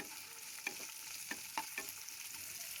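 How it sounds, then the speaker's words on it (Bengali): One large onion, sliced lengthwise, sizzles softly in oil left from frying potatoes, with a few light spatula stirs and taps over a faint, steady hiss. "অল্প ভেজে নিচ্ছি"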